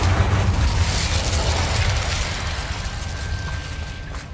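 An Incendio fire spell in Hogwarts Legacy erupts as a loud, deep whooshing burst that slowly fades into a rumbling crackle.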